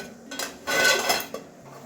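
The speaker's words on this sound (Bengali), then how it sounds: "এবারে ঢাকনাটা খুলবো" A metal lid is lifted off a pot of rohu fish head cooking with bottle gourd greens, giving a brief close clatter and scrape in a quiet kitchen.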